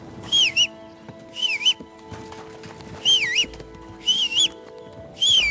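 Repeated melodic whistled phrases from a character in the video game Kingdom Come: Deliverance II, five short bursts spaced about a second apart over a quiet ambient game background.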